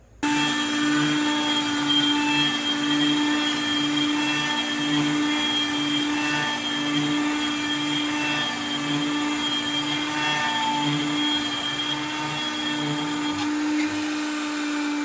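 A CNC router cuts a path through purple heart wood, a steady loud machine whine with a constant hum running unbroken throughout, with no voices.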